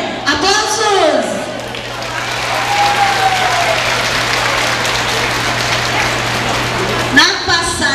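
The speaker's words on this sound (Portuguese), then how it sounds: "Aplausos!" An audience of women at a regional rural farmers' gathering in Frederico Westphalen applauds loudly and steadily for several seconds, a dense patter of clapping, with a voice speaking over it at the start and again at the end.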